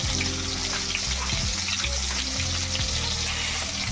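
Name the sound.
stuffed brinjal frying in hot spattering oil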